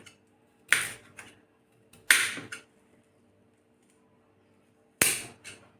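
A knife chops peeled fresh turmeric and ginger into small pieces for a homemade turmeric pickle, three sharp, separate cuts landing close by with quiet pauses between them.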